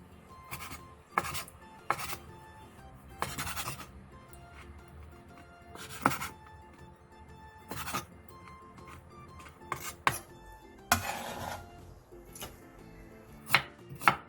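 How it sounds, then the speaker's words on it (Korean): Knife chopping blanched octopus into bite-size pieces on a cutting board, a series of sharp, irregular thunks close by with light scraping between cuts. "데친 낙지는 먹기 좋은 크기로 잘라주세요."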